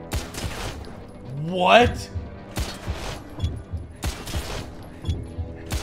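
Bursts of video game gunfire from Wanted: Weapons of Fate, with curving bullets, come with a rising whooshing swoop. The shots are loud and layered over steady game noise while a person talks over them.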